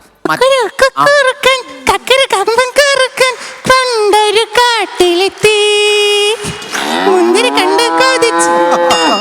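On a Malayalam TV comedy show, a person's voice imitates a cow mooing with loud, drawn-out lowing calls, mixed with lively talk from others on the set.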